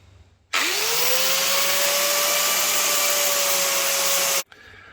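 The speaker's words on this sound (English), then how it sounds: "So the first step in the job is to grind the old welds off," A grinder fitted with a flap wheel grinds old welds off a steel trailer, starting abruptly with a rising whine, then holding a loud, steady high-pitched scream for about four seconds before cutting off sharply.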